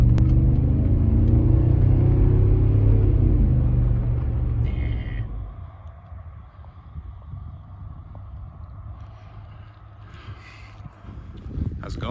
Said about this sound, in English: Does this exhaust make me sound like a prick?